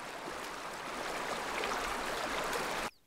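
A Yellowstone river current rushes in a steady, broadband wash of flowing water. It is moderately loud, then breaks off abruptly near the end. No voices are heard.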